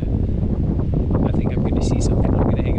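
Heavy wind buffets the microphone with a continuous low rumble, while a person speaks briefly underneath it, outdoors on a mule deer hunt in October.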